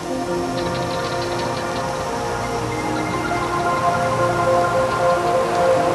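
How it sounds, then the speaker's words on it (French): Rain falls steadily in Namibia, a constant dense patter on surfaces with no pauses, even and moderately loud throughout, with no voices. "Un spectacle rare, la pluie en Namibie."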